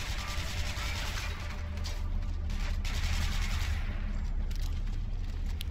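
Gunfire in the video game Hatred, a dense, continuous crackle of distant shots mixed with game ambience, steady and moderately loud throughout without speech.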